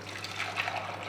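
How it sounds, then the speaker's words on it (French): Thick chocolate cream pouring steadily back into a saucepan for about a second, a soft wet trickling and splashing close by, with no voices. "Et on retransvase dans notre casserole"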